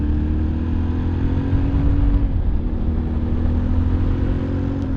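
A Yamaha Tenere 700 adventure motorcycle pulling away in first gear, the engine droning steadily and loudly with a humming tone that dips briefly then holds, heard alone without talk.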